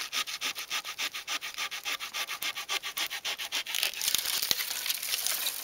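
A small pocket bushcraft saw cutting through bone-dry wood, close and crisp, with a quick regular back-and-forth rasp of about twenty strokes that turns into rougher scraping near the end.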